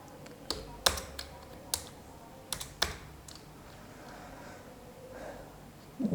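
Sparse keystrokes on a computer keyboard while entering a character into a running C program, a few sharp clicks spaced irregularly over a quiet room hum.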